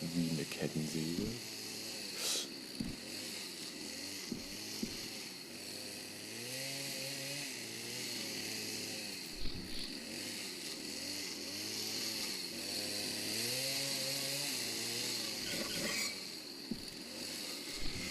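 A chainsaw in an office-set horror video game drones and revs steadily for the whole stretch, its pitch rising and falling in repeated sweeps against a dense, continuous background.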